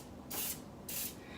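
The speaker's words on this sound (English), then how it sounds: "give it a spritz to make sure that it's spraying okay" Two short hissing bursts of top coat spray are spritzed onto cardboard, each about a quarter second long, close and crisp, separated by a brief pause.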